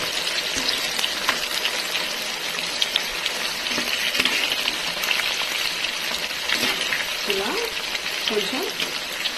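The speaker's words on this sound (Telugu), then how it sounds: "ఇప్పుడు మనం చక్కగా ఫ్రై చేద్దాం అనమాట ముక్కల్ని" Pieces of bitter gourd fry in hot oil for a steady, dense, crackling sizzle that runs throughout at close range.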